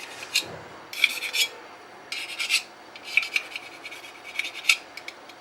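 Magazine feed lips, likely on a 2011-style pistol magazine, are sanded by hand in short rasping bursts, about five or six separate strokes with pauses between, close and fairly quiet.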